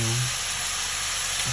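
Pork for spicy adobo sautés in its own rendered fat, giving a steady, close sizzle of frying throughout the brief moment.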